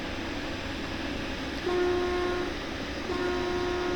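A train horn in the VR railway game Derail Valley sounds after a derailment, two sustained steady blasts over a constant rumbling background, the second starting shortly after the first ends.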